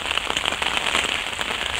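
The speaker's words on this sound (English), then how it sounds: "The rain's coming down now, that's for sure." Steady rain patters densely on a surface nearby beside the River Carron, a constant crackling hiss with no voices.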